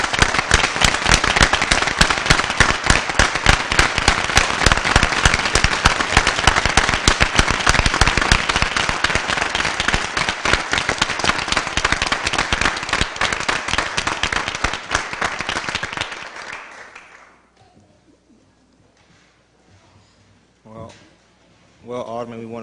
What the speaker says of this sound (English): Let's give Alderman Kennedy a big round of applause.